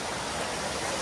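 Steady broadband rush of a waterfall near a hot spring where people bathe, a continuous even wash of falling water with no voices.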